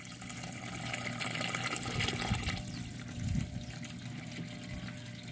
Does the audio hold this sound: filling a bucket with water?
yes